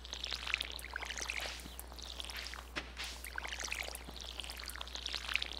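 Watering crops in the farming video game Stardew Valley makes a steady, soft splashing and pouring wash that runs continuously, with faint repeated drip-like accents and no talk.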